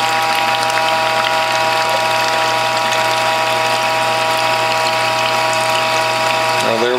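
Steady mechanical whir and grinding hum of a small juice press squeezing tangerines and oranges wrapped in cloths, loud and continuous with a constant motor drone and a slight shift near the end.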